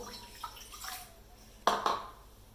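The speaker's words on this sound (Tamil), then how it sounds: "தண்ணி ஊற்றணும்." Water is poured into a pot set on a stove while shark puttu is being cooked. It makes a faint, soft splashing that swells into a brief, louder gush near the end.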